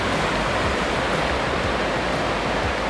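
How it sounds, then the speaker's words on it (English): Waterfall with white water roars in a steady, dense wash at close range, loud and unbroken throughout with no voices. "Here's the waterfalls here."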